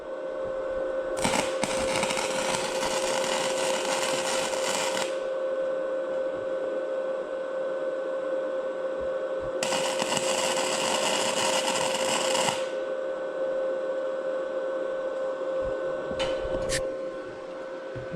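A Titanium Flux 125 flux core welder tacks both ends of a joint: two bursts of harsh, crackling arc, each several seconds long, separated by a steady electrical hum.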